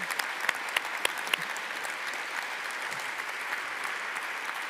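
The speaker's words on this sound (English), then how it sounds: "let's give Varshini a warm round of applause" Audience applause at a panel discussion during the Austrian World Summit, a steady wash of clapping from a sizable crowd that holds evenly throughout, moderately distant with a few sharper individual claps standing out.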